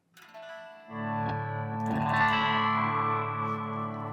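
An electric guitar through a Boss GX-10 set to a clean tone, set up to recreate an early-2000s Marshall stack, plays a few picked notes and then a ringing chord that sustains and slowly decays, with no talking.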